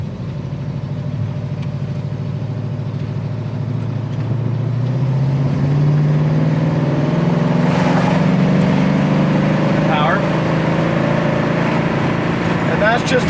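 A 1969 Ford Mustang Mach 1 pulling hard in third gear on the road: a loud, steady engine drone rising in pitch as it accelerates over several seconds, with a voice talking over it.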